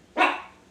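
A single short dog bark, close and fairly loud, fading quickly with no other sounds around it.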